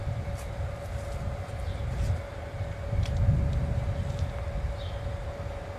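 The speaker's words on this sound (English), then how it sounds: "Ah, that's the train." Railway train rumbling past at a distance near a border crossing, a low steady roar with a constant mechanical hum, swelling slightly midway, set against an open outdoor background with faint chirps.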